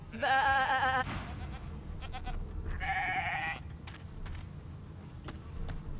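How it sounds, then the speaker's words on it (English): A sheep in the video game Divinity: Original Sin 2 gives two short bleats, a loud near one at the start and a second soon after, followed by faint ambient game noise. "Shaking her fluffy coat, the sheep eyes..."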